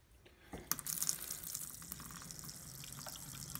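Water pours steadily from a reverse osmosis drinking-water faucet fed by an iSpring RCC7P-AK alkaline filter system with pump, a close, continuous splashing stream starting about half a second in and running to the end.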